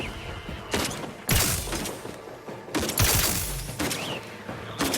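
Repeated gunfire in The Outer Worlds: several sharp, loud shots spaced a second or so apart, each with a booming low tail, over a steady game ambience and no talk.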